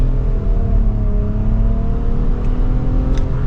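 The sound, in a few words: 2024 Nissan Rogue SL 3-cylinder CVT pulling away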